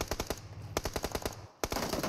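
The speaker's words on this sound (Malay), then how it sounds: "Tembakan daripada Morman, tajam" Sharp automatic gunfire from a PUBG Mobile esports match comes in quick, loud bursts of rapid shots, with a short pause between volleys.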